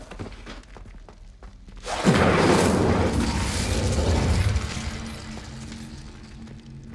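Incendio fire spell cast in Hogwarts Legacy: a sudden whooshing burst of flame erupts after a quiet start, roars loudly for a couple of seconds, then fades into a lingering crackle.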